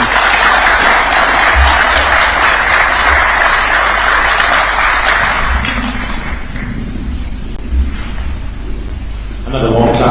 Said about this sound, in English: Another warm clap for His Excellency.